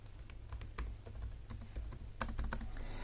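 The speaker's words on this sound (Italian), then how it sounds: "la tastiera ha una corsa molto bassa che adesso vi faccio anche ascoltare" Quick, light key taps from the low-travel keyboard of a Lenovo ThinkPad X13 Yoga Gen 2 laptop, a fairly quiet run of close clicks that gets busier toward the end, with no voice over it.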